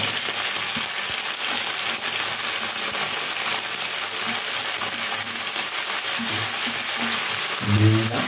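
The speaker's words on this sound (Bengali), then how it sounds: "পেঁয়াজকালিটা আমি একটু ভেজে নেব" Onion stalks frying in a pan for a dried small-fish recipe, giving a steady dense sizzle throughout with occasional light clinks and stirring scrapes, louder toward the end.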